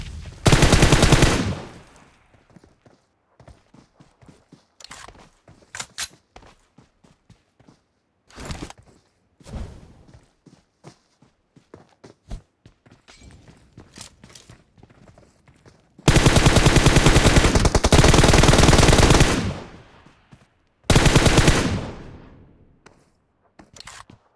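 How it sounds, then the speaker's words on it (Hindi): Gunfire rattles through a PUBG Mobile match: long loud bursts of automatic fire near the start and again toward the end, broken up by scattered single shots and quieter clicks and steps, with no talk. "अभी भी सामने से फायरिंग का साउंड आ ही रहा था"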